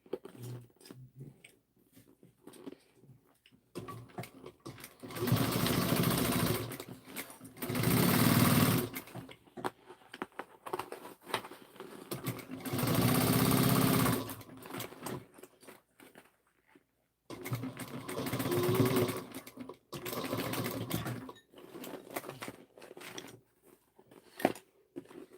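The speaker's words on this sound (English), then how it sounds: "And I'm gonna baste it on at 1/4 of an inch." A sewing machine basting a seam at a quarter inch, running in three separate bursts of steady rapid needle stitching, each a few seconds long, with quiet pauses and small handling clicks between.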